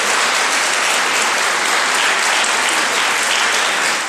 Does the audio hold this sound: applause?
yes